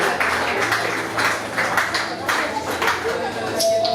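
Wedding congregation cheering and clapping at a church blessing ceremony, a continuous dense wash of applause and shouts with scattered sharp claps, loud and close.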